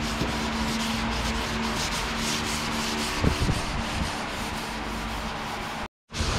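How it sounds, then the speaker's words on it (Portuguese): Sandpaper worked by hand in continuous close rubbing strokes, a loud steady abrasive hiss that barely changes, broken once by a brief drop to silence near the end. "deixando a lixa trabalhar sem forçar"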